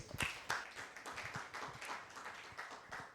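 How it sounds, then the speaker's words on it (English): A small audience at a live photography podcast gives a short, scattered round of applause, quiet and uneven, with individual claps standing out. "Let's give him a round of applause"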